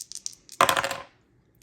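Two dice hit a hard surface and clatter, with a few light taps first, then a sharp rattling tumble that quickly settles into quiet, close and clear.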